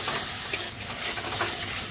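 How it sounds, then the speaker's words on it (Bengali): Ground spice paste with turmeric and salt fries in a pan for fish biryani, giving a soft, continuous sizzle with scraping stirs and no talking. "এবার ভালো করে ভেজে নেব।"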